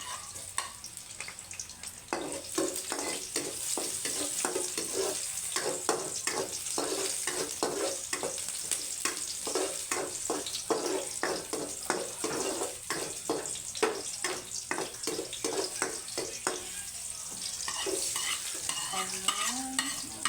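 Garlic sautés in a pan for a squash and coconut milk dish, a continuous close sizzle broken by frequent rhythmic scrapes and clinks of a utensil stirring, with no talking.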